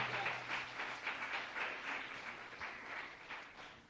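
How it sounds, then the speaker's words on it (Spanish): Church congregation applauding in praise, a sustained wash of clapping from many people, moderately distant and gently tapering. "Dele fuerte ese alabanza o ese aplauso al Rey de la Gloria."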